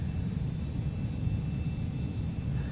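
Cabin or engine drone of a Carenado 525A Citation CJ2 jet in the Prepar3D flight simulator, a steady low rumbling roar holding constant throughout with no talk.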